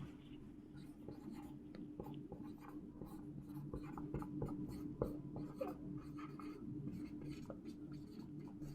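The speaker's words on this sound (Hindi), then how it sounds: "अच्छे से लिखता हूं" Pen or marker writing by hand on a board or page during a Hindi-language lecture on integrity and impartiality, a steady run of soft scratchy strokes over a constant low room hum, with no talk.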